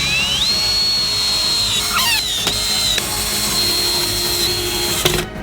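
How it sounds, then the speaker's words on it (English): A power drill driving screws through a wide wooden board into a wood stand, with a loud, steady whine that rises in pitch and carries on, broken by brief squeals and ending in a short knock. "and tighten everything with screws"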